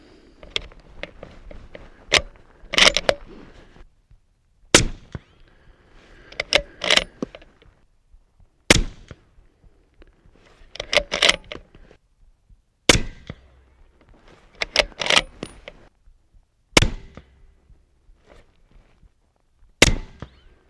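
Bergara 6.5 PRC hunting rifle in an MDT carbon stock firing at steel targets, sharp single reports spaced a few seconds apart across the clip, with handling clatter and bolt cycling between shots.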